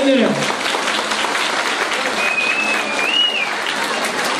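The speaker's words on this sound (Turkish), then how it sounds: "Lütfen bu değerli yönetim arkadaşlarımı sonsuz bir alkışlarsanız sevinirim." Loud, sustained crowd applause at a Kars Kümbetli village association goose night gathering, dense and continuous from start to finish, with voices and a brief whistle-like tone riding above it.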